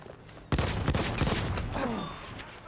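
Gunfire from Battlefield 1 with a two-shot weapon: a loud burst of rapid, sharp shots starts abruptly after a quiet moment, followed by a dense rattling fusillade that gradually tails off, with no talk.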